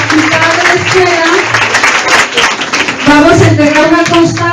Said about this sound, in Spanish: vamos a cerrar ya esta jornada con un fuerte aplauso a nuestros ponentes